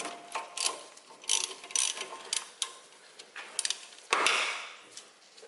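A ratchet works the lower brake line bolt loose on a brake caliper, sounding as a run of close, quick clicking bursts with short pauses between them and a longer scraping rattle near the end.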